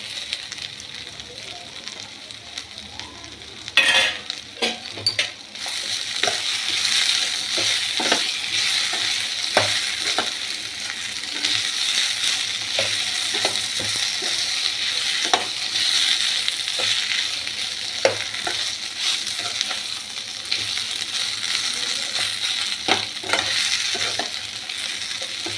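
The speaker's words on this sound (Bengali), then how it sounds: "আলুটা মিশিয়ে দিলাম" Potato being stirred into a papaya curry in a pan, with a steady frying sizzle and repeated spoon scrapes and clicks against the pan throughout, fairly close.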